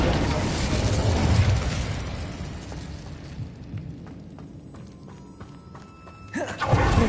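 Incendio fire spell cast in Hogwarts Legacy on PS5: a broad roaring whoosh of flame rises from a steady rumbling backdrop, thins to scattered crackles, then flares again in a loud burst near the end.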